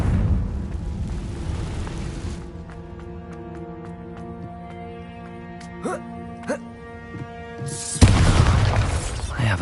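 A Confringo explosive spell goes off in Hogwarts Legacy: a loud, crackling burst opens the moment, tonal game music takes over, and a second sharp blast erupts near the end.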